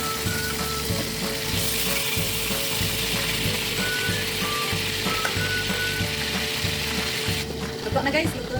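Milkfish (bangus) frying in a pan sizzles steadily and loudly throughout, with a brief clatter near the end.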